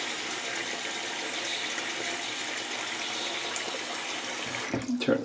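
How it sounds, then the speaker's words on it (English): A bathroom tap runs during a shave, a steady loud hiss of flowing water that holds for several seconds before breaking into a few sputtering, uneven splashes as it is shut off. "Turn the water off."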